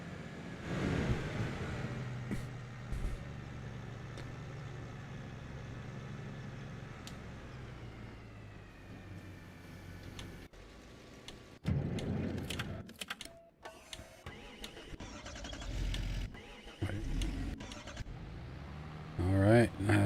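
A tractor engine drones steadily in Farming Simulator 25, a low continuous rumble with clanks and mechanical bumps later on, under someone talking.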